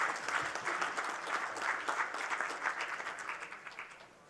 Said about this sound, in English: Please join me in extending a warm applause.